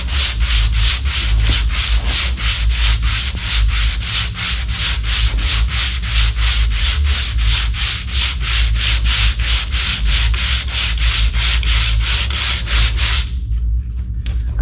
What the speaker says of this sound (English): I have 80 grit sandpaper on here, so it's gonna be fairly aggressive.